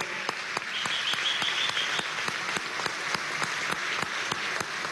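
Steady applause from a large audience at a governors' swearing-in ceremony in Venezuela, dense even clapping with a few sharper claps, moderately distant and without speech.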